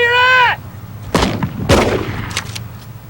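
Gunshots ring out during a police confrontation, several sharp loud bangs following a brief siren-like wail at the start, each crack trailing off into echoing noise.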